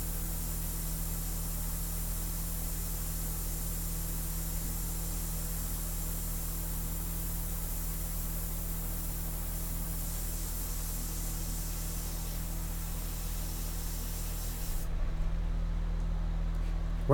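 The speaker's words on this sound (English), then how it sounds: "the airbrush is just amazing" Airbrush spraying India ink for a painted portrait, a continuous soft hiss of compressed air over a low steady hum, unbroken and close throughout.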